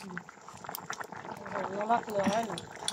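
A winter vegetable curry bubbles in a pot on a clay stove in a village kitchen, soft irregular blips and gurgles close by, partly under a voice.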